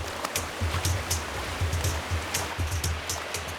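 River water flows during a forest river crossing on Mount Victoria, Palawan, a steady rushing and splashing wash with bursts of louder sloshing, close by and continuous with no talk.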